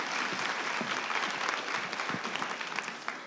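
Applause from an audience at a TEDx university event, a steady dense patter of many hands clapping heard at moderate-to-soft level throughout, with a few sharper individual claps standing out near the end.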